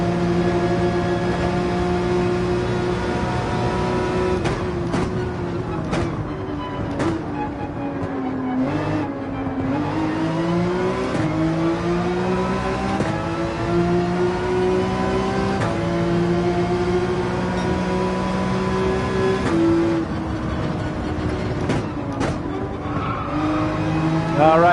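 A race car in Gran Turismo 7 howls at full throttle up a hill, its engine pitch rising and falling through gear changes with brief tire squeal, loud and continuous throughout.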